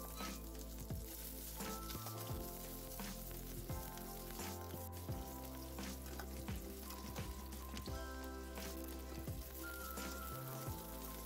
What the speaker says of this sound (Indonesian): Sekarang kita tumis bumbunya sampai benar-benar harum dan agak kekuningan